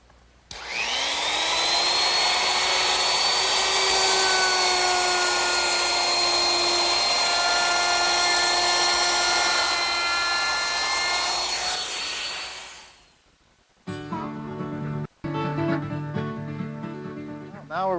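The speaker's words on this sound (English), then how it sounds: "I want to use a 1/4 inch rounding over bit, and I want to round over the top edges of each leg" Router fitted with a 1/4 inch round-over bit shaping the top edges of wooden legs: a loud, close, high whine runs steadily for about twelve seconds, then winds down. A brief burst of other sound follows.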